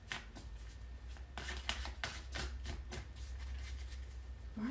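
Tarot cards are shuffled by hand in a series of quick riffling bursts and soft slaps, close and moderately loud, with short pauses between runs and no speech.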